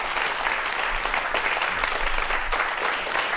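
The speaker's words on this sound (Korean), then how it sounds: "큰 박수로 환영해 주십시오." A television studio audience applauds steadily to welcome two guests onto a science talk show, dense sustained clapping filling the room for several seconds with no speech over it.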